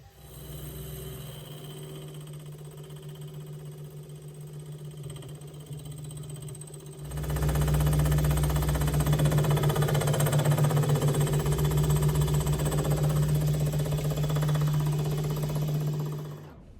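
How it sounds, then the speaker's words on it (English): A 50mm face mill runs at about 1500 RPM across an engine cylinder head held in a vise, giving a steady, loud machining drone that grows heavier partway through and then continues evenly, with no voices. "I used my 50mm face mill at around 1500 RPM"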